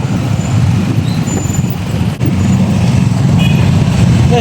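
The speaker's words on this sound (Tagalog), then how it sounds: "Ito traffic nga lang" Road traffic of cars and trucks rolls past in a continuous, loud rumble, dipping briefly midway before resuming, with faint brake squeals over the drone.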